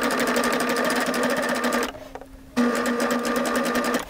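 A Baby Lock serger stitches stretchy athleisure fabric with elastic, its motor whirring in a steady, even hum that stops briefly partway through, then starts up again.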